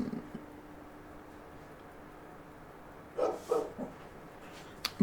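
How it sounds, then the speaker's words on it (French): A neighbour's dog and nearby dogs bark in a few short, distant bursts over a quiet indoor room hum. "C'est mon chien, enfin c'est le chien à côté, et du coup les miens lui répondent."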